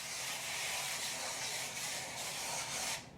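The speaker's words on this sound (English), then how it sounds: "You want to spray down your pan." Cooking spray hissing in a steady continuous burst as a pan is coated before a smoked potato side dish, close and fairly quiet, cutting off near the end.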